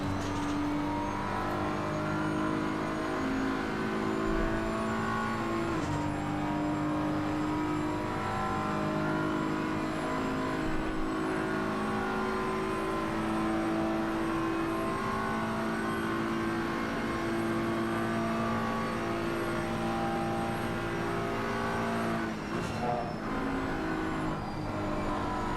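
Ferrari race car in the sim racing game Assetto Corsa Competizione during an endurance-style online race, engine droning steadily with layered harmonic tones and shifting pitch throughout, no talk.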